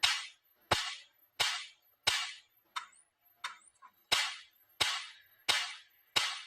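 Sharp electric sparks snap from the shorted output of a solar fence energizer being repaired, a run of about ten loud, crisp cracks at a steady pace of roughly one every two thirds of a second, with no talk.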